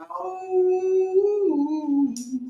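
A person imitates a wolf howl, a long sustained wavering tone that slides lower midway, close and clear.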